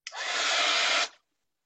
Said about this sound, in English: I might just zap this, if you guys don't mind, with the heat tool for less than 30 seconds